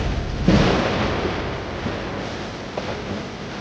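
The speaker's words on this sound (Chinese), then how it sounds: "师傅，打雷了，马上要下雨了" In an animated wuxia drama, a loud rolling rumble of thunder starts sharply and lingers as a broad, steady roar before rain. No voices are heard.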